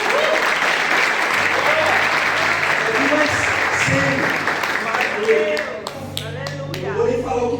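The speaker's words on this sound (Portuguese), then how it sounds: "Deixa eu aplaudir o Senhor" A church congregation breaks into sustained applause for a pastor's wife, dense clapping filling the room continuously, with scattered voices calling out underneath and a few sharper individual claps standing out toward the end.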